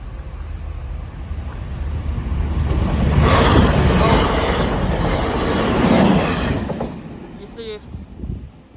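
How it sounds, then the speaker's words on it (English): Northern passenger train running past Holmes Junction level crossing, a broad rushing roar that builds and peaks mid-way then fades, outdoors with steady wind-like noise and a short beeping tone near the end. "it's the 1422 Northern train service from Huddersfield to Sheffield now"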